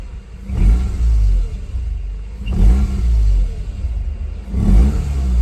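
Mazda RX-8 rotary engine idling roughly with the throttle held slightly open, a low rumbling idle that surges in three uneven swells, close and fairly loud, with no talk.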